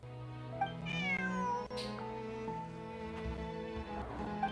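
Bonnie, a pet cat in Genshin Impact, gives a clear drawn-out meow over a steady layer of game music, its call rising and then bending downward, close and moderately loud.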